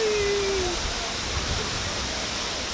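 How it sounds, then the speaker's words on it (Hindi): A hidden waterfall in Koderma district, Jharkhand, pours with a steady, dense rush of falling water that stays constant and fairly loud throughout, with a faint brief tone near the start. "वाटरफॉल जो कि कोडरमा ज़िला में है"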